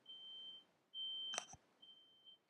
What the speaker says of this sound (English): That was the smoke detector, of course.